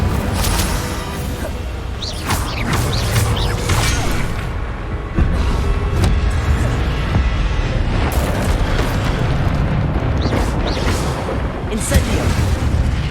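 Incendio fire spell cast repeatedly in Hogwarts Legacy on PC: dense, continuous roaring bursts and whooshing blasts with crackling pops throughout, loud and busy, layered with game effects.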